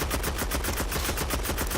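Automatic rifle fire in a video game, a rapid steady stream of shots holding at a loud, even level throughout with no pauses.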